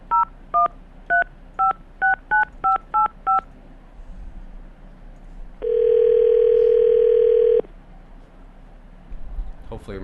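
A telephone keypad is dialed, giving a quick run of about ten short paired DTMF beeps, followed after a pause by a steady, loud two-second tone, heard alone without talk.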